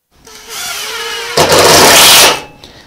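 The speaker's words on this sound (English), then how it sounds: "I'm going to take my drill now. I'm going to drill it in just like that." A power drill drives a screw into a table during assembly, its motor whirring up in pitch, then bearing down loudly for about a second under load before winding off, heard up close.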